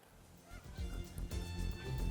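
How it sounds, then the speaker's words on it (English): Geese honking repeatedly, a loose flock calling with overlapping nasal honks that grow busier and louder over a couple of seconds. "And we can see all the geese."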